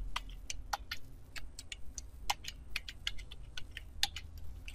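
Code being typed on a computer keyboard, quick irregular clicks of keys close up in a quiet room over a low hum, with no speech.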